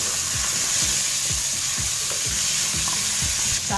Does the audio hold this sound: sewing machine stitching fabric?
no